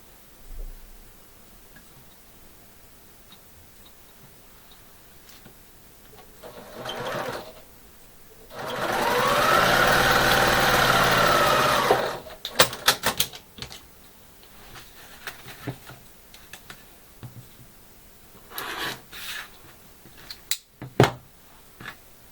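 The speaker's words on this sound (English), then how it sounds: "I'm going to sew a line from the bottom left to the top right" A sewing machine stitches a quilt seam in one steady whirring run of about four seconds, with its pitch rising and then settling. Scattered clicks and handling taps of fabric and tools come before and after.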